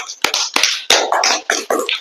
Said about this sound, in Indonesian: Yuk, berikan tepuk tangan buat teman dulu.